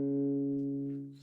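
A synthesized sound design layer for animation, pitched far down with an elastic algorithm that keeps its length, holds as a low steady harmonic drone before fading, with a faint airy hiss at the end; no voices.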